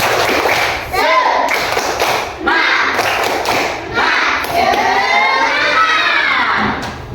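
A classroom of children performs a rhythmic spirit clap chant, bursts of unison clapping and shouted voices coming in repeated phrases with brief gaps, loud and close.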